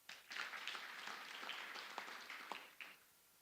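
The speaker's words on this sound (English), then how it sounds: "They deserve a good round of applause." Applause from a crowd at a taxi association annual general meeting and elections, broad steady clapping that holds for a few seconds with a few sharper claps standing out near the end.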